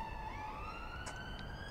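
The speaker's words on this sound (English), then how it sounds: "Sirens going on at the moment." Emergency vehicle sirens wail faintly in the distance, the tone slowly rising and falling over a quiet, steady background.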